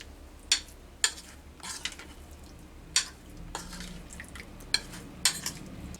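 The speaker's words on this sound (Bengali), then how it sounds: "ডিমটা দিয়েও খুব ভালো করে আমি মাখিয়ে নেব" Paneer marinade with egg mixed in a bowl, a spoon scraping and clinking against the sides in sharp separate knocks several times, close up, with a low steady hum beneath.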